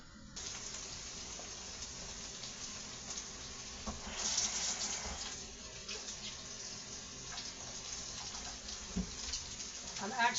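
Tap water runs into a cooking pot in a home kitchen while a frugal meal is made, a steady close hiss and splash that grows fuller midway, with small clinks of the pot.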